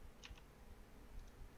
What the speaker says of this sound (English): We select the end here and just hit delete on your keyboard